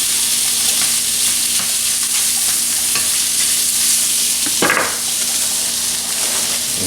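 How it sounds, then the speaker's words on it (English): Sausage sizzling in a pan for a breakfast casserole, a loud constant fry broken by scraping stirs of a utensil, including one sharp scrape near the end, with no talking. "keep an eye on the sausage and keep stirring it so you won't overly cook"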